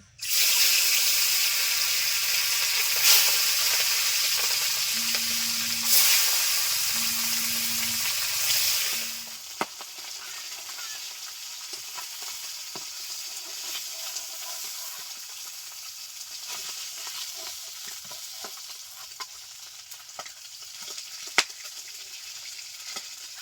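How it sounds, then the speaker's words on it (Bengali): Small river bacha fish frying in hot oil, a loud dense hissing sizzle for several seconds that then drops to a quieter crackle with scattered pops and faint clatter. "মাছগুলো ভেজে নিচ্ছি"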